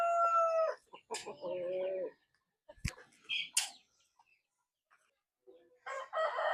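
A backyard farm rooster crows nearby, with a clear harmonic call at the start and another burst around a second in, followed by a sharp knock, brief rustles and a second bird call near the end.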